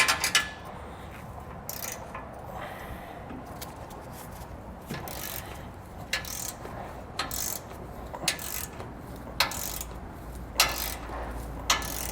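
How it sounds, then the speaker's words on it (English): Bolts on a Blue Ox tow base plate for a 2022 Ford F-150 are tightened with a ratchet, giving repeated short clicking bursts in uneven rhythm over a quiet background. "proceed to tighten and torque these 2 bolts down here to the amount specified in your instructions"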